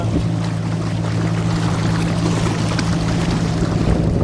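A boat's motor runs steadily at sea, a constant low drone with a faint harmonic hum under the rush of wind and water along the hull, loud and near throughout with no speech.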